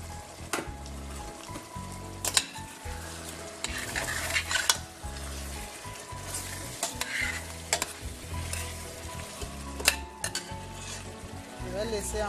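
A vermicelli sauce with tomato purée simmers and sizzles in a pan, close by, while a utensil stirs and scrapes against the metal in repeated knocks and clinks, with no talking.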